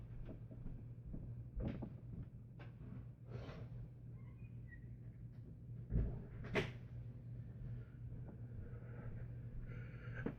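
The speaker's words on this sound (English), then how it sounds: "I gotta close my front door." A front door in a house is closed, heard faintly as soft clicks and a dull thud midway over a steady low room hum, with light handling noises around it.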